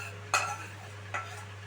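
Fried masala is stirred into mixed dal in a pot. Two short scrapes of a spoon against the pot stand out over a quiet, steady background hum.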